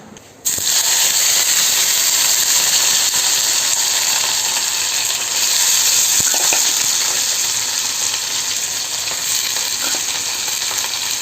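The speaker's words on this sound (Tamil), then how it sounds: "கோவக்காய் பொரியலுக்கு வறுவல் மாதிரி நல்லா கிறிஸ்பியாக" Ivy gourd (kovakkai) poriyal frying until crispy in a pan, a loud, constant close sizzle with occasional faint stirring clicks, continuing without break and without speech.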